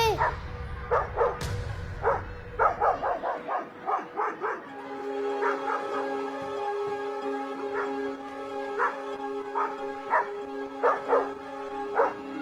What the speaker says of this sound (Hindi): बंसी काका, स्कूल में फिर से कुत्ते घुस गए।